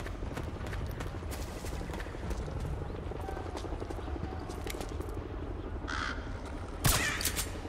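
A bird caws repeatedly in Metal Gear Solid 4 over constant game ambience, its sharp calls scattered through the scene with a louder burst near the end.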